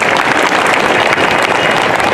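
A large audience at a two-day Ramayana conclave in Janakpurdham claps in one dense, steady wash of applause, loud and close, with no voices standing out.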